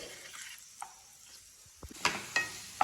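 Carrot and beetroot stirred in a frying pan over medium-low flame, a faint sizzle under a few sharp scraping knocks of the spoon against the pan, alone with no talk.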